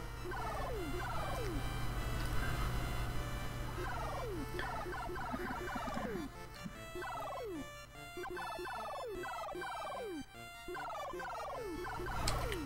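A bird in the Dr. Jekyll and Mr. Hyde video game gives repeated gobbling, turkey-like squawks in quick bursts over a steady low hum, with no talking.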